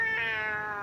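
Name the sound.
person imitating a cat meowing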